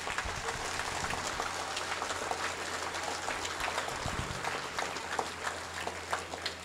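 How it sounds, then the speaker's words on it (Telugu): A school graduation day audience claps together in a sustained, dense burst of applause, steady and fairly loud throughout, with the many hand claps blending into a continuous patter. "This is the clapping."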